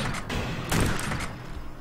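Shotgun blasts in the sci-fi shooter Space Beast Terror Fright, a loud, dense burst of broadband fire with a heavier boom near the middle, layered over constant game noise.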